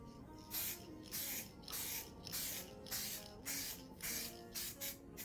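Aerosol spray coating a car headlight with a third and final coat, heard as about eight short hissing bursts in a steady rhythm, close and fairly quiet, with brief pauses between each pass.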